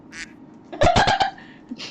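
Person imitating a duck with a short burst of nasal quacks in the middle, with faint background noise before and after and no speech.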